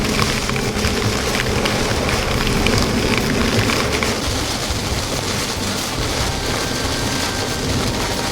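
Heavy rain pours on a vehicle driving through a storm's rain bands, a dense, constant hiss and patter that stays loud and close throughout with no talking.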